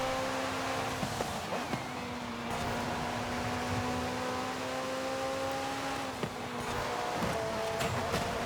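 A McLaren Spider in Forza Horizon 5, its engine holding a steady loud drone with tonal whine shifting slightly in pitch, heard continuously throughout with no talking.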